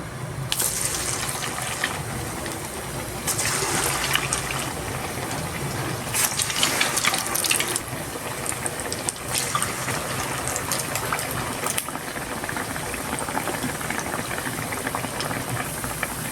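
Steady, dense sizzling and crackling of donut batter frying in hot oil, continuous and close throughout with no talking.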